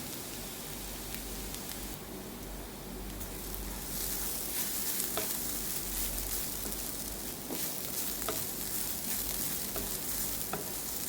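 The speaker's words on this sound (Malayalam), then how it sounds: "എന്നിട്ട് കൈവിടാതെ ഇളക്കി ഒരു ഗോൾഡൻ കളർ ആവുന്നതിനും വരെ നമുക്കിത് ഇളക്കിക്കൊണ്ടിരിക്കണം" Grated coconut fries in coconut oil with a steady close sizzle and crackle, broken by the scrape and clink of stirring, with no talk.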